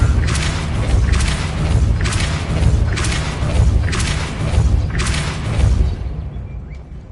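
Repeated Depulso spell blasts from the Hogwarts Legacy video game, five or six broad booming whooshes at a steady rhythm about every second and a half, loud and close with no talking.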